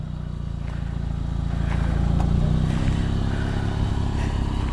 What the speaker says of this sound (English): You're spinning your tires.